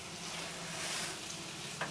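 Mushrooms frying in a pan with soy sauce, a steady close sizzle with light stirring scrapes throughout.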